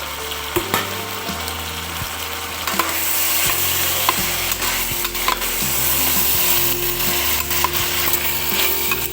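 Potatoes and sweet potatoes sautéing in a pan for bisi bele bath, a loud steady sizzle with sharp ladle scrapes and knocks, music playing underneath.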